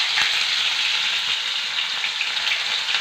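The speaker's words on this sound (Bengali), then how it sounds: "এবার আমি দিয়ে দিলাম পেঁয়াজ বাটাটা" Onion paste fries in hot oil with a little sugar, giving a loud, close, continuous hissing sizzle that holds steady throughout.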